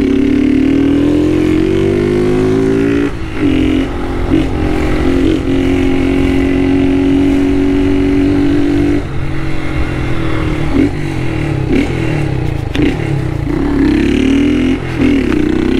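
A 2023 Honda Start motorcycle with a Polimet exhaust and its filter removed revs loudly up close, its engine drone rising and falling while crackling pops burst from the exhaust as the throttle closes.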